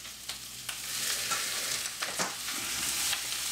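Beef fries in a pan for a Chinese beef curry, producing a soft continuous sizzle with a few brief scraping stirs, close but fairly quiet, with no talking.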